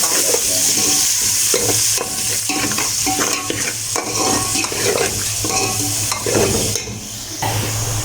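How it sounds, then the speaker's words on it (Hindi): Finely chopped onions fry until brown in a pan for an alu arvi curry, a loud continuous sizzle broken by repeated scraping strokes of a spoon stirring them close up, with no one talking. "इसको हम ब्राउन होने तक पका लेते हैं।"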